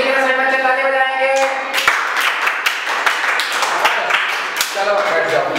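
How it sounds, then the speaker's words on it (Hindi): Children clapping together in a classroom during a dice game at school, a dense burst of claps starting partway through and continuing briefly, with a teacher's voice heard before and after. "बच्चे ताली बजाएंगे"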